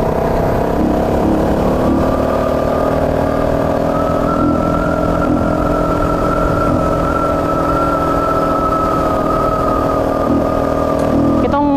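A motorcycle, the Plus, climbs a steep uphill road in 4th and 5th gear, its engine droning loud and steady close by with a constant rumble and a slight rise in pitch near the end.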